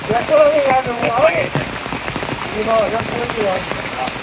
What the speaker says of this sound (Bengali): ওই বৃষ্টির মধ্যে ভাই কামটা করেন, উপায় নাই, নামে গেছি বৃষ্টির মধ্যেই